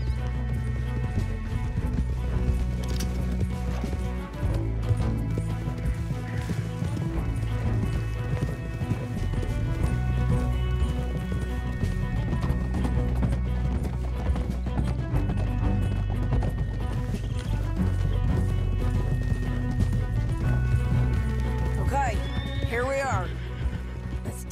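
Horse hoofbeats and whinnies in Red Dead Redemption 2, clip-clop rhythm running steadily under a constant musical and ambient bed, with voices talking over it.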